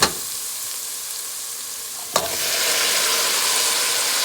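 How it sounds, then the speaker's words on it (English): Garlic and onion sizzle steadily in a hot pan, then cabbage drops in with a sharp hiss and the frying grows louder and fuller, close up with no talking. "I'm gonna mix the garlic and the onion. And we're gonna add some cabbage in here."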